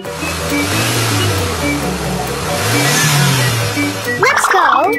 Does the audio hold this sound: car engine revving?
yes